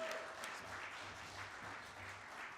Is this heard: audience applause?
yes